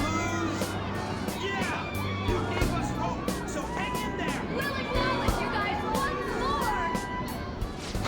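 Crowd cheering and chatter from Persona 5 Royal, a busy babble of many voices with scattered shouts, mixed with sharp percussive game sounds and music.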